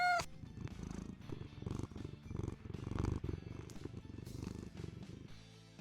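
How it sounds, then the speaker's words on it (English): A cat purrs close up, a steady low rumbling pulse repeating evenly for several seconds, with no talking over it. "For all you cat lovers, here's some purring."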